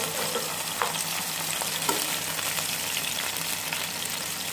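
Onions frying in soybean oil give a steady, dense sizzle, with a few faint stirring scrapes breaking through now and then; the sound is continuous and close, with no voices.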